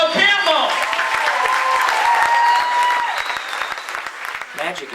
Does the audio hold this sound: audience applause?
yes